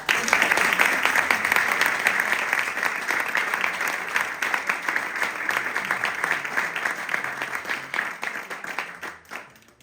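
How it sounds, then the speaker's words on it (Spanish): A room of listeners applauds at a book presentation in Quintana Dueñas, a loud continuous burst of clapping that stays strong for several seconds before fading out. "Un aplauso."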